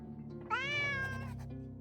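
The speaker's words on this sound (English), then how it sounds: "The cat makes throaty noises while occasionally tilting her head back and forth." A cat in the video game Drova: Forsaken Kin gives a single drawn-out, throaty meow, close and clear over quiet background music, with no one talking.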